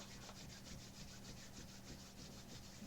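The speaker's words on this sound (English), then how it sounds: "rub the palms of your hands together rapidly for friction rub" Palms of the hands rubbed together rapidly in a steady, fast back-and-forth rhythm, a faint continuous brushing swish with regular pulses, heard close with no talking.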